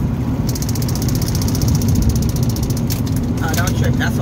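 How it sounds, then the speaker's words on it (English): A plastic water bottle rattles with a fast, buzzing clatter inside a moving car, riding over a steady low engine and road rumble, with brief faint voices near the end. "That's a water bottle."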